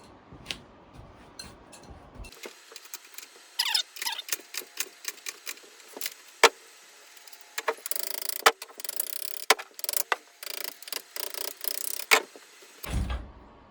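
Hand tools work a wheel off an old motorcycle, with close, irregular clicks and metallic ratcheting taps, bursts of quicker scraping clatter, and short gaps in between.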